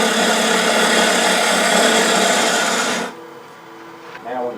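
A wood lathe spins a dogwood bowl blank while a gouge hollows out the inside, giving a steady, loud scraping hum that stops abruptly, leaving quiet room tone and a brief voice.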